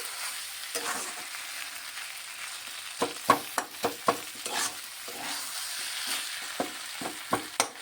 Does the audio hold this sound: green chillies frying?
yes